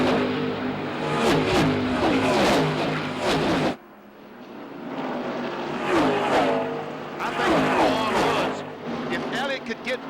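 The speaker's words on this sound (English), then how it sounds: "Now we jump inside the Budweiser Ford driven by Bill Elliott" NASCAR stock car engine heard from inside the Budweiser Ford at the 1994 Brickyard 400 at Indianapolis Motor Speedway, a loud sustained roar that cuts out abruptly and then returns, steady and close.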